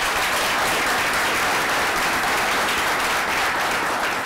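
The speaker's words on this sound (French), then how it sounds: "en compagnie du charmant public qui va s'applaudir très très très fort" A studio audience at a French-language talk show applauds loudly and continuously, a dense, even wash of many hands clapping with no pauses throughout.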